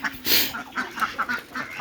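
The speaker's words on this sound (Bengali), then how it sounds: "দেখেন হাঁস কি সুন্দর করে খায়" Several ducks, fed a mix of paddy and rice, give short rhythmic quacks one after another, close by, with a brief burst of broadband noise near the start.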